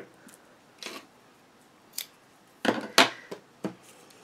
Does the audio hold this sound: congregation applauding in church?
no